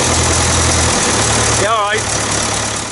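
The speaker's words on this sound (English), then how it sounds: "4-cylinder diesel engine in this" The four-cylinder diesel engine of a 60-year-old bulldozer runs at a steady, loud, close idle with a low rumbling throb, and a brief voice rises over it partway through.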